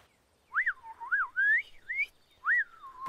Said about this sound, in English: that's a funny wobbly whistle.